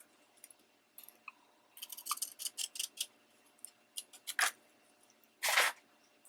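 Scissors snip through thick craft paper folded three times, making a quiet series of crisp cuts that quicken into a rapid cluster, followed by one longer slicing crunch.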